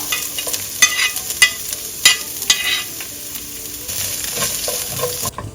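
Onion frying in oil with mustard seeds and four dry chillies, a bright close sizzle punctuated by repeated sharp spoon knocks and scrapes against the pan, ending abruptly.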